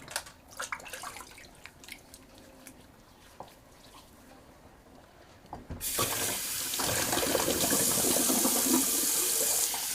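Cold water runs from a bathroom tap at a shaving sink. A few faint clicks and drips come first, then the flow starts about halfway through as a steady, loud, close rush that continues to the end.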